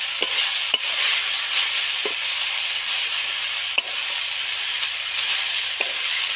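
Greens and spices, including ground cumin, coriander and chilli, sizzle steadily in a frying pan while a spoon stirs, with occasional sharp scrapes and knocks against the pan over the continuous hiss.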